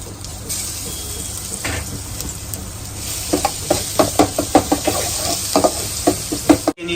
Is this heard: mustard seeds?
yes